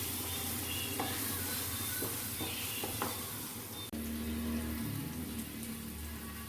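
Sauce ingredients for macaroni, seasoned with ground pepper, fry in a pan with a steady, close sizzle while a spoon scrapes and stirs in irregular knocks, with no talking.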